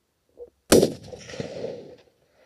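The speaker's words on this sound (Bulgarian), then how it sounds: "Втори изстрел на 903 метра" A single sharp rifle shot at about 900 meters cracks out loudly after a brief faint thud, followed by a rolling echo that fades over about a second, during a zebra hunt in South Africa.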